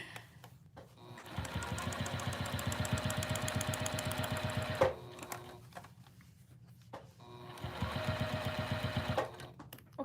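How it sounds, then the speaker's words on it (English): A Juki sewing machine stitches in two fast, rapid-fire bursts of mechanical rattling, separated by a short pause, close and fairly loud. "What kind of sewing machine are you using, Tegan?"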